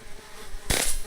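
A swarm of bees buzzing in the golf role-playing game RPGolf Legends, a brief faint drone that swells into a brighter burst of buzzing near the end, with no voices.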